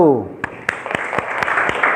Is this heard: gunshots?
no